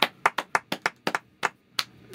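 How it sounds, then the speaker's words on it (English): Sparse, slow hand claps, about nine separate sharp claps spread unevenly over two seconds, close and fairly quiet, with no talking. "Clap, golf clap, for sure"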